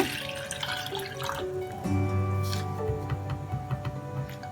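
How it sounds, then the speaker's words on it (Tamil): Water pours and splashes into a cooking pot while making pasta, with a faint hum and a few light clinks in the background. "அதில் 2 டம்ளர் தண்ணி சேர்த்துக்கோங்க."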